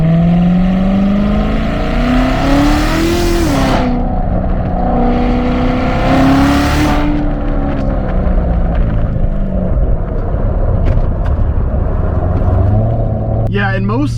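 Chevrolet C7 Corvette Z06 driven hard, its engine roaring loudly from inside the cabin through rising and falling revs and shifts, with someone talking over it.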